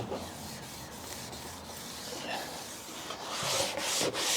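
Faint, uneven rubbing strokes come from scuff-sanding a wooden screen door, growing slightly louder and scratchier toward the end, with no talk.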